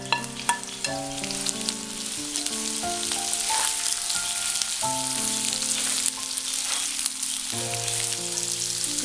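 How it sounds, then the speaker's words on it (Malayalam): Onions frying in plenty of sunflower oil in a kadai for Zurbiyan rice, a steady close sizzle running throughout with occasional sharper crackles, set against a layer of steady tones in the background. "ഈ സവാള സൺഫ്ലവർ ഓയിലിൽ വറുത്തെടുക്കാം."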